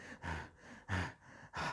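A voice imitates fast, heavy panting, three loud breathy puffs with quieter breaths between them, close to the microphone.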